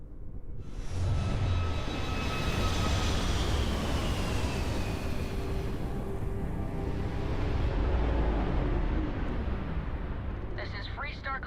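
A Starfield spaceship engine roars in flight: a loud, sustained broadband rumble with a whining tone that sweeps downward, holding steady before a brief electronic chirp at the end.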